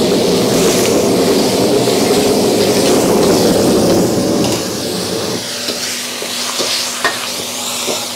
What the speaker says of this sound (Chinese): 炒出葱油